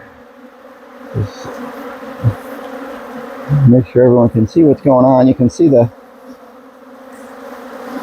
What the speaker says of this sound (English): These bees are active. You can hear them.